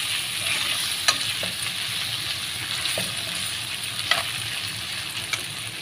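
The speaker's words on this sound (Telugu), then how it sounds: "ఉడకబెట్టుకున్న చికెన్ ముక్కలు అయితే వేసుకున్నాము. ముక్కలు కూడా బాగా వేయించుకోవాలి." Boiled chicken pieces fry in a pan for a creamy chicken dish, giving a steady close sizzle with occasional clicks and scrapes of stirring.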